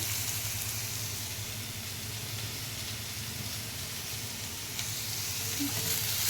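Potatoes with turmeric and salt sizzle in a pan over low heat while cooking for Kashmiri dum aloo, a steady, even hiss that runs unbroken throughout with no voices.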